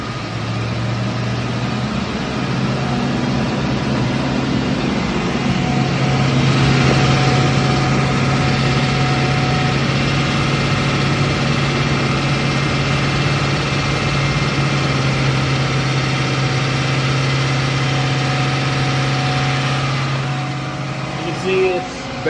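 A car engine is raised to a steady 2,000 RPM with a scan tool during an exhaust back pressure test for a clogged catalytic converter, giving a smooth, even hum held close and continuous under talking.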